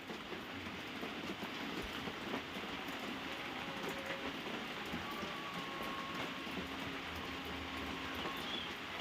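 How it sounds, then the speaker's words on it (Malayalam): Heavy rain falls outside and is heard from indoors in a kitchen as a faint, steady hiss. The wash stays unbroken throughout with no talk. "ഭയങ്കര മഴയാണ് പുറത്ത്"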